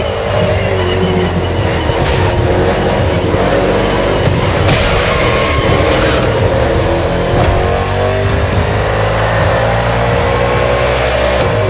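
NASCAR stock cars race on a city street circuit in Honolulu, Hawaii, in The Crew Motorfest, a loud continuous engine roar with revving and shifting pitch as the cars push on together.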